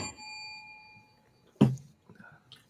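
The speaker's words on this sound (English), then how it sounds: "Ring the bell." A bell rung once in a casual room, a sharp bright strike with a brief ringing decay following a fading sustained tone, with faint sounds after.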